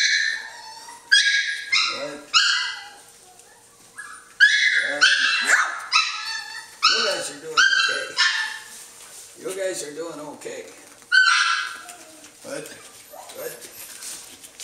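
Norwegian Elkhound puppies in a litter of seven bark, yip and whimper in repeated high-pitched bursts, close and loud, with someone talking in between.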